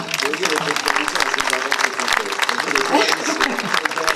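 A crowd applauds at the Sipario d'Oro award ceremony in Agrigento as the mayor presents a prize, a dense, loud and continuous clapping that fills the room, mixed with voices.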